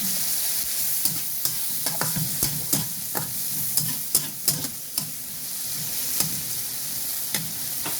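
Tomatoes and onions sautéing in a pan with a pinch of chicken powder make a steady close sizzle, broken by a run of spatula clicks and scrapes against the pan at an uneven pace.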